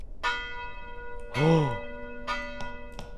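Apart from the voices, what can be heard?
bell ringing in a horror video game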